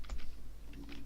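A few quick keystrokes on a computer keyboard while entering a command in a terminal, soft clicks in a short burst, close and fairly quiet.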